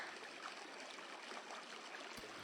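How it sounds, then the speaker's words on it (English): River flowing in the video game Ether One Redux, a constant broadband rush of running water, steady and fairly close with no talk over it. "I love the sound of the river."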